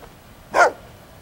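A single short bark from a dog in Fable 2, heard near the middle at moderate loudness over a quiet game background, with no talking.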